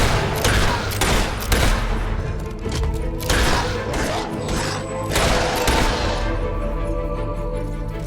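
Gun firing in Fable 3 during a village defense, repeated heavy shots and booming impacts in clusters over a dense game soundscape with rumbling background.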